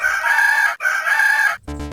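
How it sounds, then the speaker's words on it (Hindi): A rooster crows twice in a Hindi children's rhyme, each call a loud, sustained, tonal cock-a-doodle-doo heard up close, followed by the start of a bright musical note. "मुझे मुर्गे ने जगाया, बोली कुकड़ू को को"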